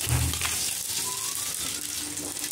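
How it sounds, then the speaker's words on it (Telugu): Tempering spices hit hot oil in a pan for a bitter gourd curry, giving a short, close burst of frying hiss and crackle that stays steady for a couple of seconds. "ఇదే ఆయిల్లో మనం పోపు వేసుకుందాం."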